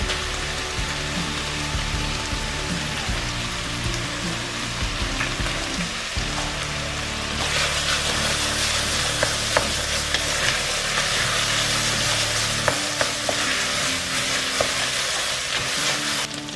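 Onions, garlic and tomato paste fry and get stirred in a pan for chili con carne, giving a steady close sizzle with scraping stir strokes; the hiss grows louder and brighter partway through, with no talking.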